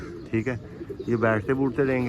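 Pigeons coo in soft, throaty bursts, several rolling calls close by, while someone speaks briefly between them.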